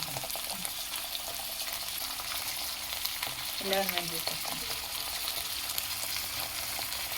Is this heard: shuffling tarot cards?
no